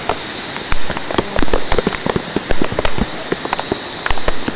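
Heavy rain pours during Typhoon Enteng amid flooding, a dense steady hiss broken by sharp irregular pattering and splashing bursts close by, with no talking.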